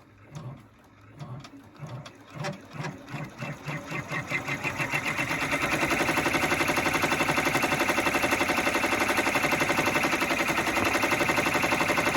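A sewing machine stitches a towel and washcloth project, starting with slow separate thumps that quickly speed up into a steady, loud, fast mechanical chatter, heard close with no talking.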